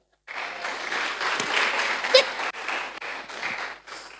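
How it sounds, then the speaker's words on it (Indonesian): A church congregation applauds the children during a revival service sermon, dense steady clapping across the whole span with one sharper spike partway through, moderately loud. "Tepuk tangan buat anak-anak kita."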